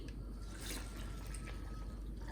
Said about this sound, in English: I'll just put a cup of the alkaline water so that my smoothie is not shubile